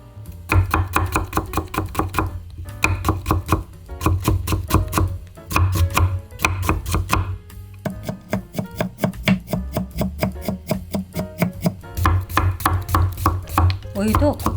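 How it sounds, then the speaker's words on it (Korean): Knife finely chopping julienned carrot on a cutting board, a steady run of rapid, close, loud blade taps in quick bursts with brief pauses between them, with no talking. "당근도 채 썰어서 곱게 다질 거예요."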